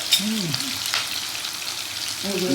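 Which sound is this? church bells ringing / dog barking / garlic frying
garlic frying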